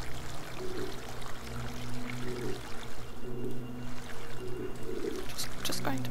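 Water being emptied out in the game Munin, a continuous pouring, gurgling flow with repeated sloshing surges, close and fairly loud, while a voice talks over it.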